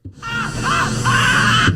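Voices let out a loud, sustained collective scream lasting under two seconds, close and strained, rising sharply from silence and cutting off abruptly.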